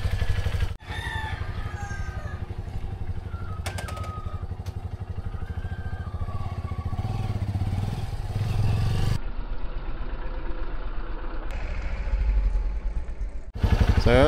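Motorcycle engine idles and runs with a low, constant rumble on a ride toward a mountain view deck in Itbayat, Batanes, while roosters crow and cluck nearby.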